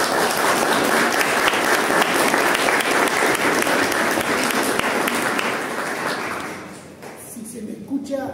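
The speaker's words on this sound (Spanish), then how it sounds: "lo recibimos con un fuerte aplauso" A lecture audience gives a loud welcoming round of applause to an author of a book on Marxism and Zionism at a talk about Palestine; the dense clapping holds steady for about seven seconds, then thins and fades.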